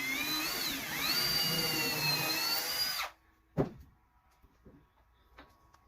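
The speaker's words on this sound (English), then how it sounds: "Need to drill it." A power drill whines loudly for about three seconds, its pitch sagging and rising as it bites into cracked pallet lumber, then stops, followed by a few clunks.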